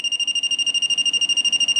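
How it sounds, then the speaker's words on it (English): A BSide ACM03 Plus clamp meter signals detected voltage with a rapid, steady stream of shrill pulsed beeps, about ten per second. The beeps are close and loud, with nothing else audible. "once it detects it, it does give a nice beep"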